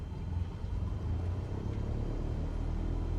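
Engine drone of a Cessna Skyhawk at low throttle in the MSFS2020 flight simulator, a steady low rumble with a faint whir, constant and even throughout.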